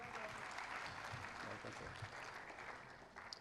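Audience applause welcoming the Faisalabad deputy commissioner at a public ceremony, a continuous dense clapping wash from a large crowd, steady and fairly distant, with voices blended underneath.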